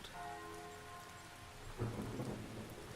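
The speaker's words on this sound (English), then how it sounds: "The rain became heavier that afternoon, accompanied by rolling thunder now and then." Video-game rain falls in a steady hiss, with a low rumble of rolling thunder swelling in partway through and continuing under the downpour.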